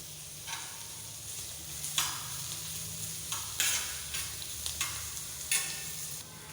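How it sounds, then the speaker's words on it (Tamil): A steady sizzle of chopped onions frying in a pan, broken by periodic scraping stirs every second or so, with no talking. "நறுக்கின வெங்காயம் ஒன்று வதக்கலாம்."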